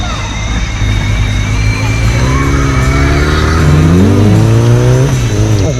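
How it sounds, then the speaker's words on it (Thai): A motocross motorcycle's engine rides past close by. Its loud, revving whine rises and falls as it passes, with someone talking over it. "โอ้โหมอเตอร์ครอสขี่ผ่านไปแล้วนะครับทุกคน"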